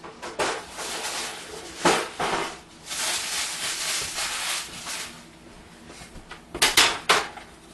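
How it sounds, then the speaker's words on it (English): Baking sheets being pulled out in a home kitchen while Swedish thumbprint cookies are made: several sharp metallic clanks and rattles, close and moderately loud, separated by brief pauses. "And get a couple of baking sheets."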